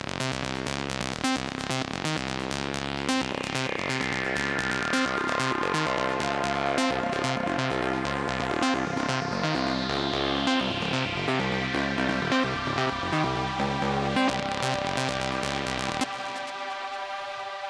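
A techno melody played on a Surge XT bell patch layered with a Sweeps pad: dense, rhythmic repeating bell notes over a steady pulse and sweeping pad tones, with a filter sweep rising midway, cutting to a sustained tail near the end.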